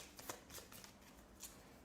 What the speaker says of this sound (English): you get your discard pile, you shuffle your discard pile